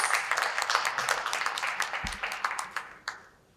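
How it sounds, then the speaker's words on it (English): An audience at a health conference panel in Dubai claps for the panelists, a soft, fairly distant patter of many hands that thins out into a few last scattered claps near the end. "Let's give the panelists a round of applause."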